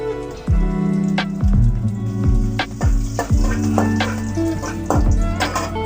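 Whole spices (cinnamon, cloves, fennel and marathi moggu) frying in hot oil, a loud continuous sizzle and crackle close up, with a few sharp taps and stirring clinks from a utensil.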